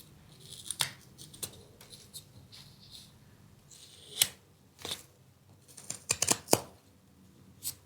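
A knife whittles wood to make a stop cut, giving sparse, close, crisp scraping and snicking cuts, some short and sharp, spaced irregularly over quiet background.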